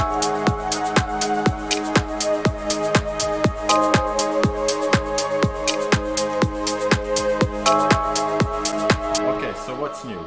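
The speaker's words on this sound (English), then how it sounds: "So also I added some new shakers in." An organic house track section with added shakers plays loud and steady, with punchy kick drums on a regular four-on-the-floor pulse under sustained pads and a bright shaker layer, thinning into a breakdown at the very end.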